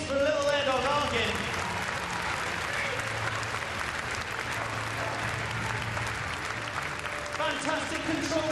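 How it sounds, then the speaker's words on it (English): Crowd applause at an outdoor RAF display team show, sustained broad clapping from a large audience for several seconds, with some talk faintly underneath at the start and end. "A massive applause, please"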